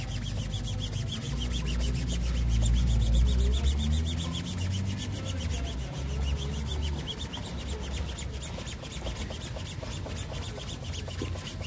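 Cloth strip rubbed briskly back and forth over a shoe during shining, a steady, close, rasping buff with a fast, even rhythm sustained throughout, no voices.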